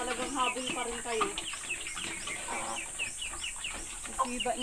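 Chickens cluck and chatter while feeding, a dense run of short, repeated clucks close by, with a voice speaking over them.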